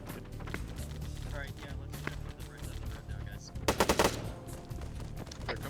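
Sniper gunfire in a military shooter game operation, heard as scattered cracks and a short cluster of louder shots over a steady low rumble of ambient battle noise, with a voice talking at times.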